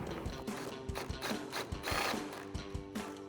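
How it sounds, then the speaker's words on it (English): An 8mm socket on a ratchet backing out taillight screws on a 2011-2016 Ford F-250 Super Duty pickup, a close run of quick rhythmic ratcheting clicks with light metallic rattles and no voices. "So we'll get our 8mm socket and pop those out."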